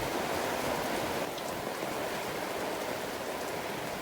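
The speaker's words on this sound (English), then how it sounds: "it started to rain a lot." Heavy rain on a sailboat off Martinique in the Caribbean makes a dense, steady hiss and patter that stays loud and close throughout, with no talking.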